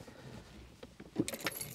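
A set of keys for a 2015 Land Rover Defender 110 2.2 diesel jangles near the end, a brief close metallic rattle after a quiet stretch with a dull knock.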